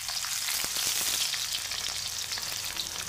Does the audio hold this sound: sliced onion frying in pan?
yes